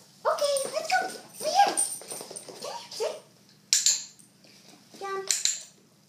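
A puppy whimpers and gives short high yips in a few brief bursts indoors, with people talking over it and faint clinks of dishes and cutlery nearby.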